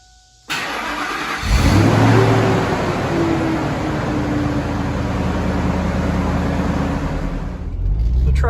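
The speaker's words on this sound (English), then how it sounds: "The truck fired right up," A Gen 2 Ford SVT Lightning pickup engine cranks and fires up about a second in, then settles into a loud, steady close-up run with a low rumble throughout.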